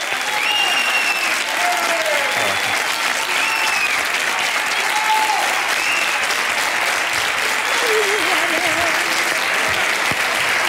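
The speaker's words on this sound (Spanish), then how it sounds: "estás disfrutando ese aplauso" Loud, sustained audience applause fills a TV talent show gala, dense clapping throughout with faint cheers and voices mixed into the crowd noise.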